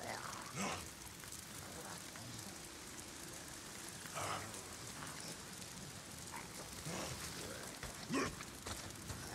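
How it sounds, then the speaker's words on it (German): Rain falls steadily in the zombie survival video game Days Gone, a soft constant patter at moderate distance with occasional louder splashes and faint background game sounds. "Oh, verdammter Regen. Mal sind's die Freaks und dann dieser verdammte Regen. Wieso regnet es andauernd?"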